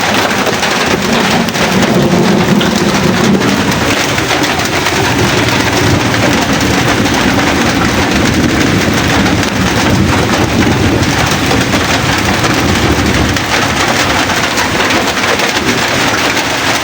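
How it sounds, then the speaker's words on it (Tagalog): Heavy rain pounds down in a steady, loud, dense roar, with low thunder rumbling beneath it throughout, and no voices. "Lakas ng ulan."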